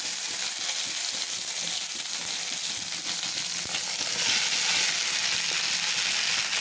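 Okra and potatoes frying in a hot wok with nigella seeds in oil, giving a steady, loud, broadband sizzle that carries on without a break, with faint stirring scrapes underneath.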